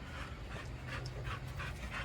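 A dog pants steadily in the background, quick breathy bursts repeating several times a second over a constant low hum, with no talking.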